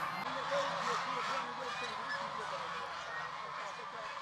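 Geese of a breed brought from China honk continuously in a dense, noisy farm flock, the calls overlapping loudly throughout with no pauses.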